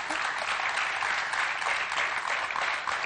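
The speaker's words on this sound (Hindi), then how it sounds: "बड़ी जोर से तालियां वालियां बज रही है" Loud, dense applause from a studio audience at a Hindi TV talk show, a steady wash of clapping filling the whole stretch with no pauses.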